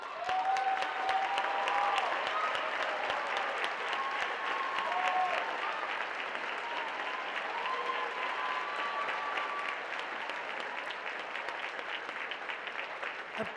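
An audience at a high school state speech tournament awards ceremony applauds steadily for over ten seconds, fairly distant, with a faint voice briefly over the clapping.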